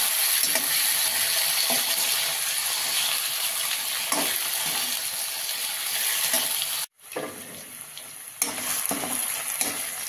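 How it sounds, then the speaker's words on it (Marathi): Potato slices sizzle and crackle loudly in a hot pan while being stirred, producing a dense, continuous frying hiss with occasional scraping, broken by a brief pause near the end before the sizzle resumes. "बटाट्याच्या चकत्या परतून घेऊ थोड्याशा."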